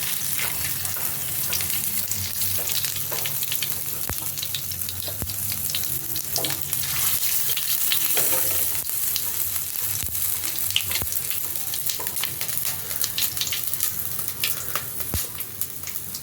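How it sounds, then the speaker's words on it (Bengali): Bay leaf, dried red chili and panch phoron tempering in hot oil for a pumpkin-greens poppy-seed dish, giving a steady close, loud sizzle with crackling pops and faint clinks throughout. "দেবো একটা তেজপাতা আর একটা শুকনো লঙ্কা ফোড়নে দিলাম।"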